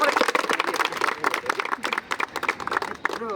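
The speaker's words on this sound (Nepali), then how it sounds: "ताली सबैजनाले जोडले" Everyone joins in loud, dense clapping that continues for a few seconds, with voices mixed in among the applause.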